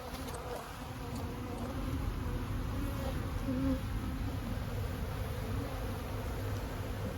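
Honey bees drone around open hives as boxes are checked for an extra super, a dense continuous buzz close by with individual bees weaving louder for a moment.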